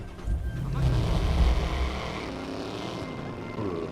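Muscle car engine in the Watch Dogs video game, a steady low rumbling purr held close for a few seconds, with a voice partly over it.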